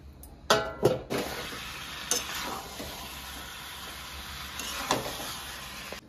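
Chicken and potatoes with whole spices cooking in a pan, a low steady sizzle under a couple of sharp lid or utensil clinks at the start and occasional stirring scrapes.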